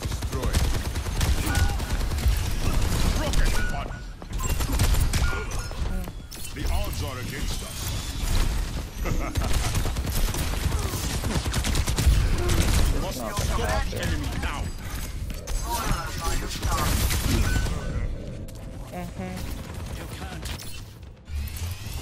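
Heavy gunfire and a mechanical ratcheting rattle from an enemy turret in the video game Overwatch 2, loud and continuous under busy game effects, with voices talking over the action throughout.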